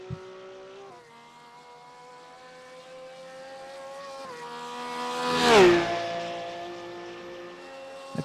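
A modern Porsche GT3 race car engine screams in a racing video game during a Nürburgring endurance race, its steady high-revving whine shifting pitch with gear changes as another car swells past loudly midway.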